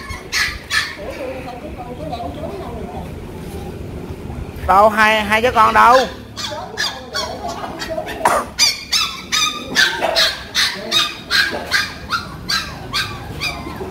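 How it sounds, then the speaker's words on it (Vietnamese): Wet, shivering puppies and dogs at a rescue of nearly forty dogs in Sa Dec bark, yip and whimper up close in repeated bursts, while someone speaks over them. "Còn đây là coi như là 28 bé chó con này cả nhà."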